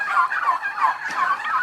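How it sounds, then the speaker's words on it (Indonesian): Male turkeys in an open pen gobble in rapid, warbling bursts that overlap one another, close and loud. "ini sebenarnya kalkun ini, kalau berantem itu sampai mati"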